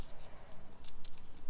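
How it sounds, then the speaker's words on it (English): Scissors snip through fabric during fussy cutting at a quilting beginners class, a short run of quiet, crisp close cuts in irregular rhythm. "if you've got the right scissors, you can't have a huge pair of scissors, it's pointless"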